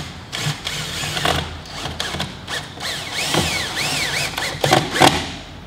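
A power drill drives 3-inch self-tapping screws into a window frame, a whirring motor with rising and falling pitch and several bursts over a few seconds, close up with a rattling, grinding edge.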